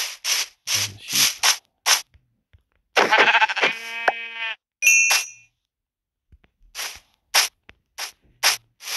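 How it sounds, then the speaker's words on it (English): A Minecraft sheep lets out a drawn-out, quavering bleat near the middle, amid a scatter of short, crisp game clicks and thumps, with brief tonal chimes after it. "And the sheep."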